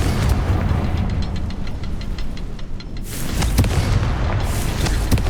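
Confringo fire spell in the Hogwarts Legacy video game, a loud booming blast that bursts in around the three-second mark over a dense, rumbling game soundscape with crackling debris.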